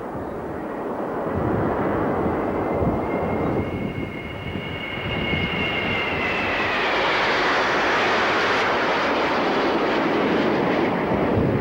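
A high-speed jet aerobatic trainer flies past with a loud, sustained roaring whine whose pitch slowly sweeps downward as it passes, steady and alone with no talk.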